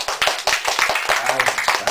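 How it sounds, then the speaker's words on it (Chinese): A lecture audience applauds, brisk clapping from many hands for about two seconds, close and fairly loud, with a voice briefly heard over it. "我们要掌声欢迎"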